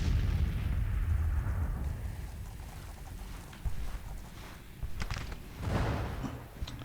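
Rumbling booms of 6-pounder cannons trading fire in a Civil War battle in the strategy game Grand Tactician, with heavy low thunder early and a few sharper blasts near the end over a steady battlefield din.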